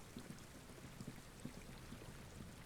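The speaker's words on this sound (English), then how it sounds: "I do like how it's raining though." Steady rain in the video game Disco Elysium, a soft, even hiss with faint recurring low thumps, heard quietly and alone.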